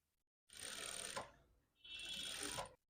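An electric sewing machine stitching cut work on fabric runs in two bursts of rapid, even mechanical whirring separated by a short pause, close and clear with no talking.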